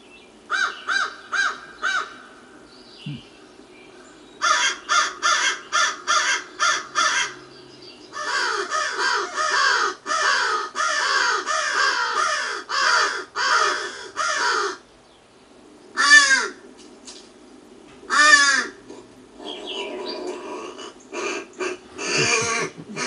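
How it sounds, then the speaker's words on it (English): Several crows cawing in short rhythmic bursts, some harsh and some oddly human-sounding, loud and fairly close with brief pauses between series. "That's a crow. Sounds human. That's also a crow."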